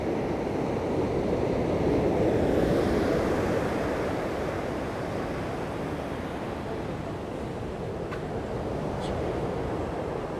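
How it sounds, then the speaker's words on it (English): Sea waves breaking on the shore at Sant Elm (San Telmo), Mallorca, a broad steady wash of surf with wind on the microphone, swelling slightly early on and continuing without talk. "It's as though the waves are coming in this direction."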